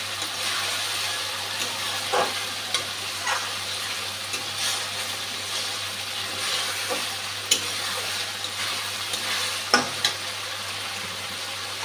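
Poppy seed paste with ginger and green chilli paste fries in a pan for a Bengali pabda fish dish. A close, continuous sizzle is broken by occasional clicks and scrapes from stirring.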